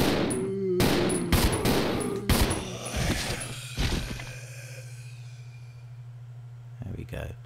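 A burst of rapid gunfire rings out against zombies in Resident Evil 0, loud repeated shots in the first few seconds, then a quieter stretch and a couple more shots near the end, with someone talking over it.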